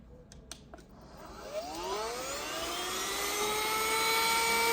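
An XREXS handheld cordless vacuum cleaner switches on after a few clicks and spins up into a loud, rising whine with steady airflow roar while cleaning a computer.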